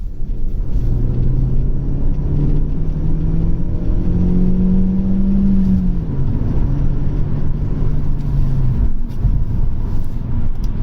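A base-model Vauxhall Vectra B engine revs up steadily in second gear, its droning pitch climbing then dropping, loud and continuous with road rumble underneath.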